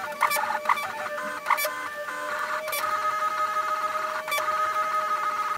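A Prusa i3 3D printer runs a test print, its stepper motors whining in steady tonal hums that shift pitch with the moves, broken by short chirping bursts, continuous and close with no talk.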